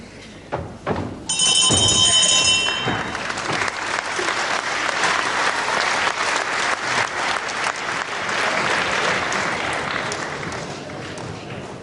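Wrestling crowd in a hall breaks into loud, sustained applause and cheering, clapping swelling sharply after a brief bell ring and continuing steadily, with a faint voice under the clapping.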